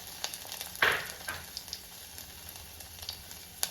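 Ginger frying in hot oil in a pan for a Kerala-style onion dish, a soft continuous sizzle with a louder crackling burst and small scattered pops, heard alone.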